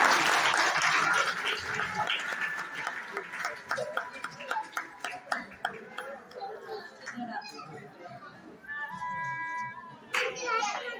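Audience applause at a school prize ceremony, a broad wash of clapping at the start that thins into scattered claps while children chatter and an adult voice speaks over it, with a brief burst of clapping near the end.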